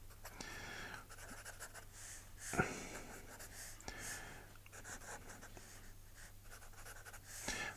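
Pen or pencil scratches faintly across paper while an apple pie is drawn, soft intermittent strokes over a low steady hum, with a few louder taps and rustles.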